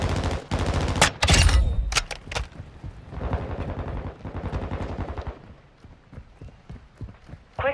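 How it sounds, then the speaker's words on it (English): Gunfire in Call of Duty Modern Warfare II on the Embassy map in Kill Confirmed mode, with MK4 and Bryson 800 weapons: loud, rapid bursts of shots, then scattered sharper cracks and footsteps-like clatter, fading toward the end. "Pumped bullets into this dude."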